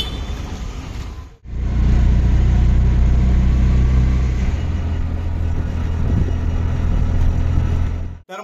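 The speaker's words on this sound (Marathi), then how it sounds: "आता रिक्षा करून आम्ही ठाण्यावरसून रिक्षा करून डोंबिवलीत जातो" Auto-rickshaw engine droning steadily and loudly on the road from Thane to Dombivli during the Ganesh festival journey, with a brief drop near the start before the ride noise resumes.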